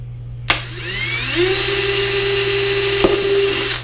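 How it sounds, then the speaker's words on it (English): An electric drill clicks on, spins up into a rising high whine and holds a steady pitch while drilling holes in a homemade crawfish trap, with another sharp click near the end. "I got a drill, so I'm going to use a drill instead"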